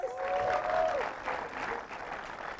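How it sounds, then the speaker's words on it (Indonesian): Audience applause at a televised comedy show, a steady burst of clapping from a crowd that gradually thins, with a brief whistle-like tone near the start. "Kita tepuk tangan untuk Lucy."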